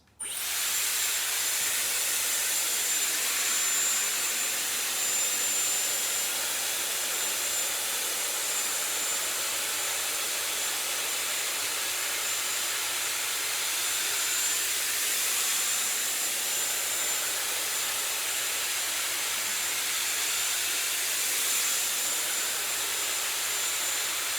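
A Dyson Airwrap styler blows a steady, loud rush of air while drying a strand of hair, running continuously for the whole stretch with no talking over it.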